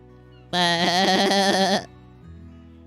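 A sheep in a video game lets out one long, loud, wavering bleat, close and clear, followed by a quieter low hum of game sound.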